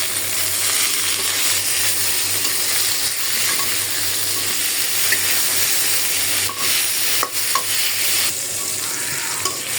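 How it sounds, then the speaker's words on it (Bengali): Fish sizzles steadily in hot oil in a home kitchen pan, a loud, continuous crackling hiss heard up close, with occasional clinks of a utensil against the pan and no talking. "মাছও ভাজা হয়ে যেতেছে"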